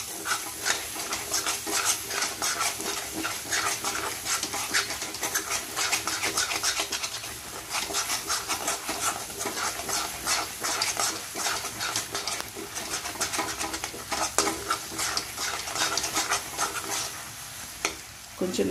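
A spoon scrapes and rubs continuously around a pan, stirring a thick bottle gourd sweet cooked in ghee, with a faint sizzle under the steady close-up stirring.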